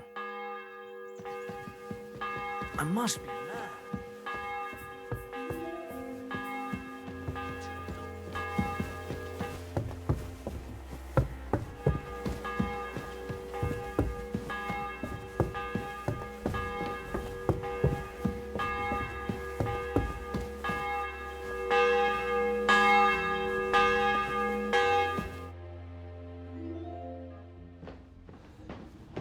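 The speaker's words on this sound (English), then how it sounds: "bell's ringing for Hans the 5th time" Church bells ring out in Kingdom Come Deliverance 2, a game set in a medieval town, pealing in steady repeated strokes over a low droning tone, with brief footsteps and a short spoken line.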